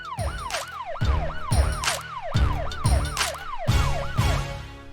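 A police car siren wails close and loud in rapid repeating rising-and-falling sweeps, backed by road noise.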